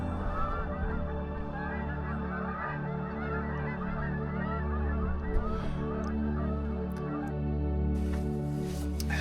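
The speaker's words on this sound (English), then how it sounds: "Oh, look at these geese." A flock of geese honks continuously, many overlapping calls filling the air, loud and close, with a steady low rumble underneath.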